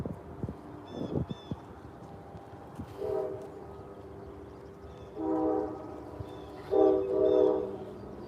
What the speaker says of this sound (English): It's the train whistle.